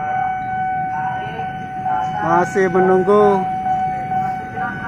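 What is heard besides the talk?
commuter train approaching a level crossing from Bogor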